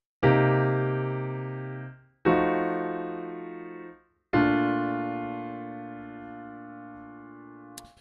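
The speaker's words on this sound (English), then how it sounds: "So the actual progression sounds like this." A 2-5-1 progression of three sustained piano chords in 1-7-3-5 voicing, struck one after another, each left ringing and slowly decaying before the next; quiet, with no talking.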